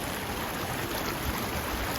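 A river flowing across a hiking trail near hot springs on the Ojo del Fantasma route in Ecuador, heard as a steady, close, broadband rush of water with no pauses and no voices.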